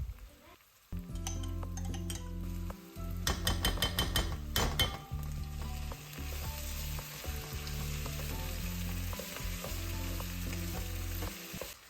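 Stew meat frying over high heat with tomato paste mixed in: a loud, continuous sizzle, with a cluster of clinks and scrapes from the utensil stirring the pan partway through.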